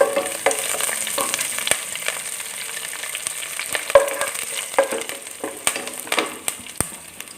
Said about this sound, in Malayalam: ഇനി നമ്മൾ വെക്കുന്ന വേപ്പില ഇട്ട് കൊടുക്കണം.